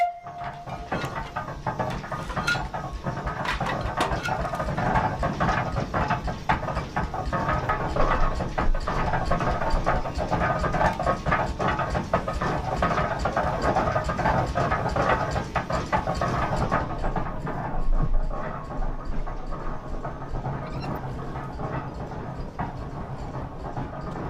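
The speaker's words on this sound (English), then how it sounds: "the machine we have behind us is a 1908 Dolbeer steam logging machine" A 1908 Dolbeer steam donkey logging engine with a wood-fired boiler runs with a loud, continuous rhythmic mechanical clatter and chuffing that eases to a lower, steadier churn after about seventeen seconds.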